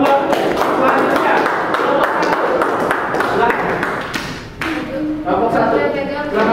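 A classroom of students applauds a group after their presentation, dense and loud throughout with voices and chatter mixed in near the close.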